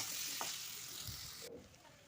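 Green tomato sautéing in a pan with cumin, coriander, salt, turmeric and green chilli, a soft continuous sizzle with faint stirring that drops away near the end.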